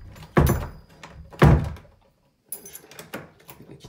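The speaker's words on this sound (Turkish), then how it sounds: "Tabii ki biz kapıyı kapatalım." A door in a wooden village house, opening onto a balcony, is pulled shut with two heavy close wooden thuds about a second apart, followed after a pause by lighter rattling and clicking at the door.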